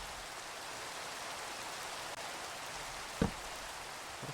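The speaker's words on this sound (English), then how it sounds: "Oh, rain." Rain falling in the Minecraft video game, a steady even hiss of drops throughout with one brief low thump near the end and no talking.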